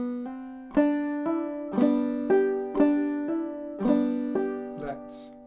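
A clawhammer banjo plays a slow phrase of Speed the Plough with a doubled hammer-on. Bright plucked notes ring out in a steady rhythm, close and clear, with no talking.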